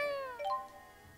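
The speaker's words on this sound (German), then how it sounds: "Meine Katze ist back." A domestic cat gives a single clear meow, a falling tone that is fairly close and sounds alone against a quiet background.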